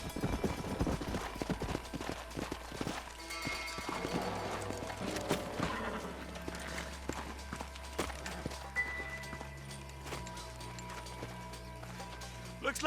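Steady clip-clop of horse hooves at a walking pace in the video game Red Dead Redemption, fairly faint, with a low hum and soft mechanical sounds in the background.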